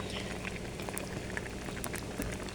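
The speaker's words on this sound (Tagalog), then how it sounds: "ayan, kumukulo na siya talaga." Pork sinigang with guava boils in a pot, a steady dense bubbling and popping patter that continues evenly throughout, fairly quiet and close.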